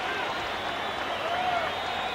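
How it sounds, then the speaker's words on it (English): A 1990 boxing crowd roars and applauds at the end of a round in the Daniel Zaragoza vs Paul Banke fight, a distant, steady wash of ovation noise with no clear individual claps. "Oh, what an ovation."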